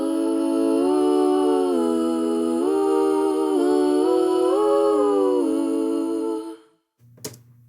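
Layered backing vocal oohs from a song, heard solo, sing smooth sustained harmonies that glide between chords for several seconds and then fade out. A brief faint click follows.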